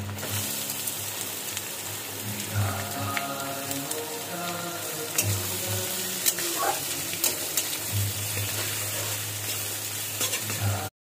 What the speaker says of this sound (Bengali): পেঁয়াজ রসুনটা ভালো মতো ভাজা ভাজা হয়ে এসেছে।